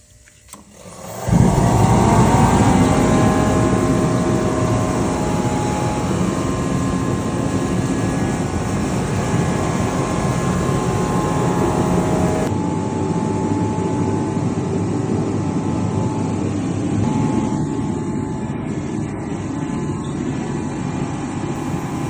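A BILT HARD 135,000 BTU portable kerosene diesel heater burning number 2 diesel in a 30x40 shop fires up with a quick swell into a loud, steady roaring blower drone that runs unbroken.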